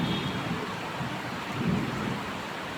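Onions and chilies fry in oil in a wok, a steady, soft hiss and crackle that runs continuously at low volume with no talking.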